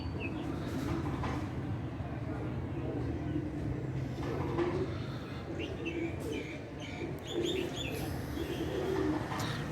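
Pigeons and newly hatched pigeon chicks coo in soft, repeated low calls, close by and fairly quiet, with faint background noise and occasional brief higher chirps.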